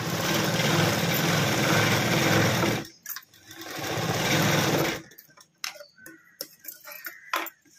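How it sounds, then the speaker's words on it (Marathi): Sewing machine stitching blouse fabric with its lining runs in a fast, steady whir for about three seconds, then another burst follows, ending with a few scattered clicks and ticks as the fabric is handled. "पण असं ठेवून एकावर एक ठेवून अशी टिप मारून घ्या"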